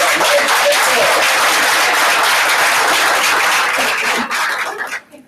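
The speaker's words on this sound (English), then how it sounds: "Give them a bigger round of applause today." Sustained audience applause fills a sales meeting room, dense and loud from the start, then thins and fades out over the last second.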